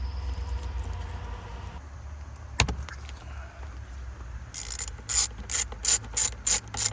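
A ratchet undoes a screw in the steering column of a 2012 Toyota 4Runner. Faint mechanical handling comes first, then rapid bursts of sharp pawl clicks close to the microphone.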